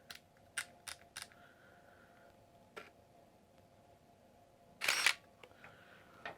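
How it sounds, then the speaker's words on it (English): A Nikon N8008S (F801) 35mm film SLR firing its shutter, a few sharp quiet clicks followed by a louder snappy shutter-and-mirror clack with brief motor whir, alone in a quiet room. "I like the shutter. It's quick and snappy."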